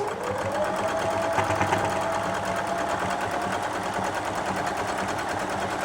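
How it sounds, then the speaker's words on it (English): A sewing machine stitches the seams of an Ohio Star quilt block, its motor running in a steady, close, continuous whir for several seconds with no talking. "stitch 1/4 inch either side of that line you've drawn. Make sure you keep that seam nice and flat."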